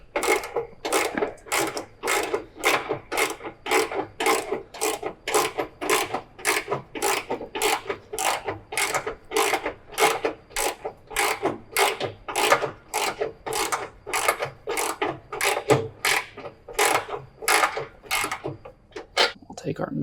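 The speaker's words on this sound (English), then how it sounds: "So we'll go ahead and grab our ratchet." A hand ratchet tightens or loosens the deck adjustment on a John Deere E120 tractor-style mower, a steady run of about thirty rapid, evenly spaced clicks, close and fairly loud, continuing throughout.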